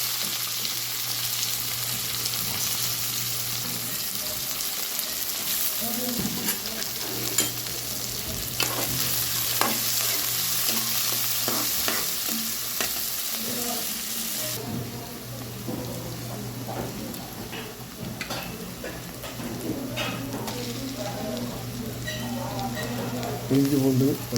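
Onions and fennel seeds sizzling in hot oil as mutton chukka is started, a steady close frying hiss with stirring scrapes and a faint hum, a voice speaking now and then over it.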